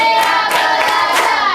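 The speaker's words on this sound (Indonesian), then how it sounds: "Suaranya tepuk 1, suaranya tepuk 2, tepuk 3, tepuk 4," Elementary school students in a classroom clap out a pattern: a few sharp, evenly spaced hand claps over a steady tonal background hum, close and fairly loud.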